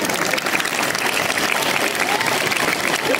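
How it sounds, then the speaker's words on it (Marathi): An audience at a public speech in Kopargaon claps loudly, a thick, continuous wash of many hands beating for about three seconds without a break. "टाळ्या वाजवल्या तर जोरातच वाजवायच्या"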